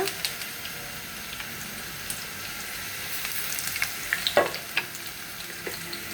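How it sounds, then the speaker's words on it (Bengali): Garlic, cardamom and bay leaves fry in hot oil with a steady crackling sizzle, while a few sharp knocks and clinks of utensils stand out near the end. "এখন তেল দিয়ে এলাম, এখন রসুন দিয়ে দিচ্ছি, কয়েকটা এলাচি, তেজপাতা"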